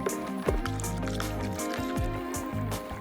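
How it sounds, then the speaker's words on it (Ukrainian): Copper sulfate is stirred into water in a bucket, giving steady liquid swishing and sloshing with small drips and splashes, close and fairly quiet, with no talk. "а тепер потрібно добре розмішати, щоб мідний купорос розчинився у воді"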